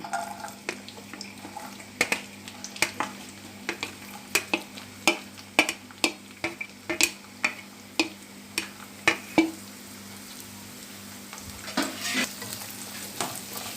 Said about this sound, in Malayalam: ഒരു സബോള ചെറുതാക്കി അരിഞ്ഞത് ഓയിൽ ചൂടായി അതിലേക്ക് ഇട്ട് കൊടുക്കണം